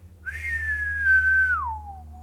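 A single human whistle, clear and close, holds a steady high note before sliding down to a lower one, over a faint low hum.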